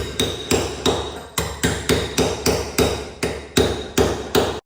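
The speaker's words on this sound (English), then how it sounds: "you definitely shouldn't need to chisel the lid off your brake master cylinder" Hammer blows strike a chisel against the stuck lid of a truck's brake master cylinder, about a dozen sharp metallic knocks in an even, steady rhythm, loud and close with no talk.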